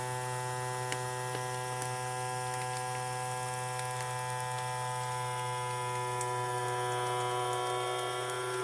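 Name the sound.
vacuum sealer sealing bag of radishes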